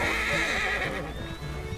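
A Nokota horse in a video game gives a loud whinny with trailing clip-clop hoofbeats in a short, close burst, and no one speaks.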